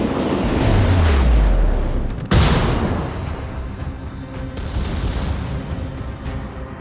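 Main battery guns of the USS Massachusetts battleship in World of Warships fire in a loud, close salvo: a deep descending rumble, then a sharp second blast trailing into a long roaring decay with lighter pops.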